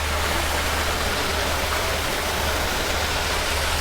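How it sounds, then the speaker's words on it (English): Water spilling steadily from a waterfall feature into the pool on the deck of the ISA Classic 65 superyacht, a dense, constant rushing wash with a faint low hum beneath, continuous and unbroken with no voices. "we now have the waterfall running as well"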